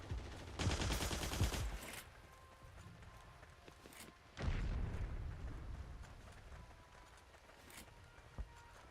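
Enemy gunfire in Heroes & Generals comes as two short bursts of rapid shots, fairly distant and muffled, with quiet gaps and a faint single crack near the end.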